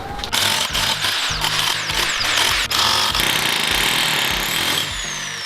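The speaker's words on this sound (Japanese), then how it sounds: "溶接の穴埋めの次に大変だったのが、このはつりと呼ばれる作業ですね" A power breaker chips concrete for a garage slope. Loud, rapid pounding comes in repeated bursts with brief pauses and a harsh hammering rattle, close by throughout.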